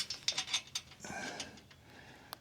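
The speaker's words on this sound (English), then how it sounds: "And we're just hand tightening these for the time being." Nylon Nyclad nuts hand-tightened onto a bumper bracket of a Polaris 570 Ranger Mid-Size, with a quick series of faint metallic clicks and ratcheting, then soft scraping.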